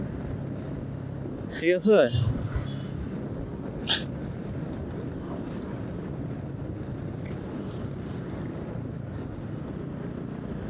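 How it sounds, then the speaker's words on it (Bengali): Strong wind buffets the microphone on a mountain road ride in Bandarban, a constant low rumbling roar throughout, with a brief spoken phrase and a couple of short sharper sounds early on. "ওরে খাইছে বাতাস"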